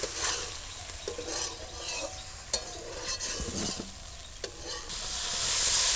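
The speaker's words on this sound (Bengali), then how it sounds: "এবার এটার সঙ্গে একটুখানি কষিয়ে নেব।" Green peas stir-fried with roasted ground spices and kasuri methi in a pan, giving a soft steady sizzle with scraping and stirring clatter from the spatula, a few sharper knocks, and no talking.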